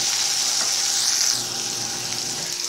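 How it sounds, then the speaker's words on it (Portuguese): Onion and beef frying together in a pan for carne acebolada, a steady, fairly loud sizzle and crackle with faint stirring, no voices. "a gente frita a cebola junto com a carne"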